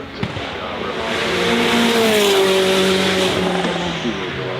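A supercar accelerates up the hill climb course at the Festival of Speed, its engine note rising and swelling loudly as it draws close, then easing slightly as it pulls away.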